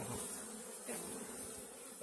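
Honey bees buzz inside a barrel hive, a steady, dense drone that hums close and evenly throughout, with no voices.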